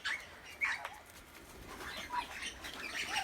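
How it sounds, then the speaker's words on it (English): Currawongs on a rooftop give brief calls and bursts of wing flapping, close and fairly soft, in an irregular scatter of short sounds over a quiet outdoor background. "The Currawongs. Look at this."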